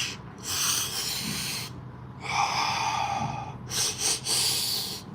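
Breathwork demonstration with several forceful, rasping breaths at close range, drawn in and pushed out in uneven bursts with short pauses between them, and no talking.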